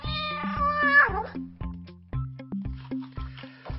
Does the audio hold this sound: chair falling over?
no